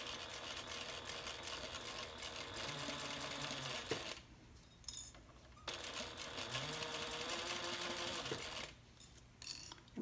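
A sewing machine stitches zipper tape to vinyl for a handbag's recessed zipper, running in two long close whirring bursts, each ending with a brief stop and a short back-stitch.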